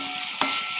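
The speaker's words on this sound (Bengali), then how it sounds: "মিষ্টি দিয়ে একটু নেড়ে নেব।" Bitter gourd fries in a pan with a sugar sweetener, giving a steady close sizzle broken by a single sharp scrape of the stirring spoon near the middle.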